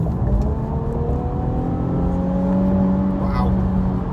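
An Infiniti Q50S Red Sport accelerating under light throttle, heard from inside: a smooth, steady engine drone whose pitch climbs gradually as the car pulls, loud and continuous with no clear gaps.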